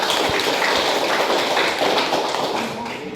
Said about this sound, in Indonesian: Kita beri aplaus dulu untuk kelompok 4.